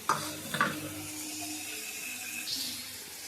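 Cauliflower fries in a pan with onion, chilli, bay leaf and panch phoron, giving a soft steady sizzle opened by two sharp stirring clinks.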